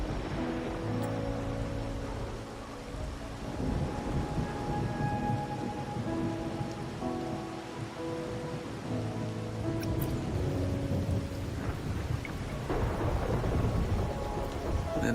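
Steady rain and rumbling thunder in the Wuthering Waves video game, a dense continuous wash of rainfall with deep rolling thunder swelling underneath and a brighter crack near the end.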